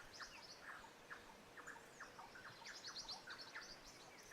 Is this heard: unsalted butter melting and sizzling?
no